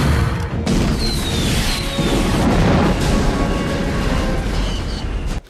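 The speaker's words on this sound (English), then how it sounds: "second explosion we actually do something about" A deep, booming movie explosion from Johnny Mnemonic with a sustained rumbling roar and crashing debris, loud and continuous before cutting off abruptly.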